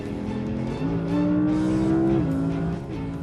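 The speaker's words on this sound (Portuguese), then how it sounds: "é só o barulho do V10, 610 cavalos" A powerful 610-horsepower V10 sports car engine revs loudly and close, climbing in pitch, holding, then dropping back through several throttle changes.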